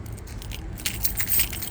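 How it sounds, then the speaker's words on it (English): A set of genuine Isuzu D-Max central-locking car keys jangles close by, a brief metallic shuffle with a couple of sharper chinks, alone over a low background hum. "we do get heaps of keys with these as well."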